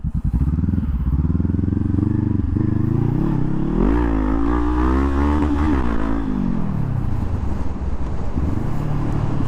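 A Honda CB500F motorcycle with faulty brakes revs hard during a wheelie attempt. The engine roars close and loud throughout, and its pitch climbs and falls in a surge through the middle.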